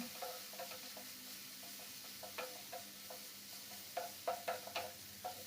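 Something is stirred and fried in a pan, giving a faint, low sizzle with scattered soft scraping taps that grow a little more frequent toward the end, with no voices.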